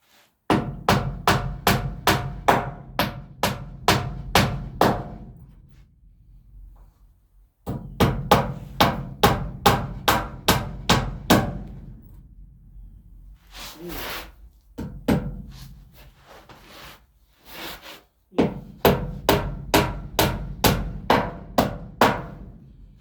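A hammer strikes wood during floor or ceiling work in quick, even bursts of loud, close blows. The bursts are separated by pauses filled with softer scraping and handling noises, and nobody speaks.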